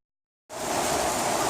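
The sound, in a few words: heavy rain pouring down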